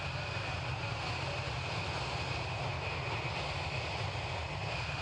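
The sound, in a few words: large airplane starting its engines before takeoff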